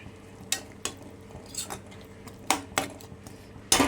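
Ground masala being stirred in a pan for a jackfruit stir-fry, heard as a series of separate scraping strokes and clinks of a spoon against metal over a low, quiet sizzle.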